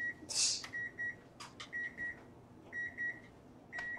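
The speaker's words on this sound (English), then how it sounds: "Sorry for leaving the timer on for a bit." A kitchen timer beeps in short, evenly spaced pairs and runs of tones, close and clear, with brief pauses between bursts and a faint clatter near the start, during live spray painting of sock blanks.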